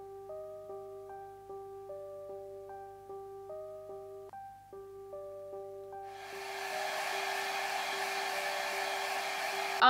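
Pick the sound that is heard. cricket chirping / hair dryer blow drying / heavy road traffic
hair dryer blow drying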